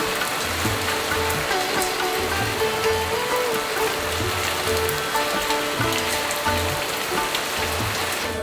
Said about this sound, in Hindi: जैसे ही हम लोग जी फोर्ट पे पहुंचे हैं, खूब बारिश स्टार्ट होगी